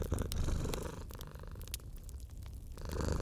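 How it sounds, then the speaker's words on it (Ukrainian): A cat purring close up, a soft rhythmic rumble that continues steadily with brief light clicks. "котик муркоче"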